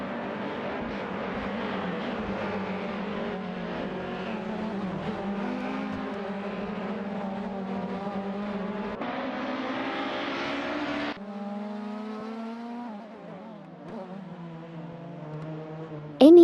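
Race cars in a racing video game: a steady, close engine whine with layered droning tones, shifting pitch as one car overtakes another, then a higher solo engine that rises and falls.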